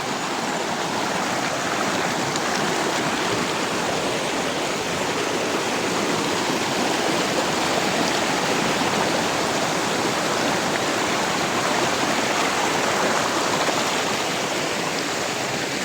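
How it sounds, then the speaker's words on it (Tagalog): A creek rushing and gurgling steadily in a rural hillside setting, a dense, even wash of flowing water that holds at the same loudness for the whole span, close by, with no voices over it. "natanaw nyo ba itong sapa na to doon sa baba?"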